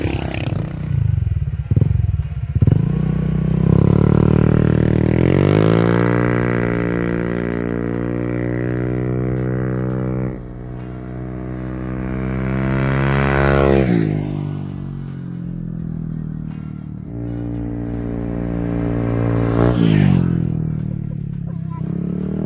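A Honda Vario 125 scooter fitted with an MDM Sarteng aftermarket exhaust revs and rides past, its engine note climbing and falling through several long throttle sweeps with a raspy, buzzing drone, loud and close.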